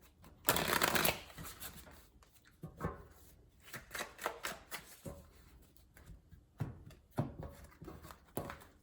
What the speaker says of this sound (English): Get a couple more shuffles in here.